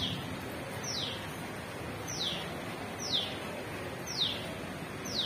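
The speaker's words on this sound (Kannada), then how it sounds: "ಅಲ್ಲಿ ನೋಡಿ ಅಲ್ಲಿ ಹಕ್ಕಿ ಇದೆ ನೋಡಿ" A bird calls outdoors in the rain. Five short descending chirps come at roughly one-second intervals, faint and fairly distant, over a steady hiss.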